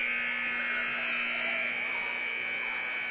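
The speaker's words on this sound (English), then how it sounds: "Buzzer sounds." A loud electronic buzzer at a high school volleyball match blares in one steady, unbroken tone for about three seconds, echoing slightly in a large gym.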